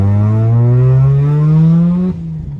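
A very loud, raw straight-piped rotary engine in a car with a T56 transmission, exhausting through a 4-inch pipe, revs steadily upward in pitch, droning harshly, then drops off suddenly as the throttle is released.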